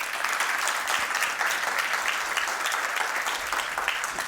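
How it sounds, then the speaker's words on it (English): Sustained applause from a live audience at a motivational success-strategies talk, a steady dense patter of many hands clapping throughout, fairly close and loud with no talking over it. "give him a round of applause, sir"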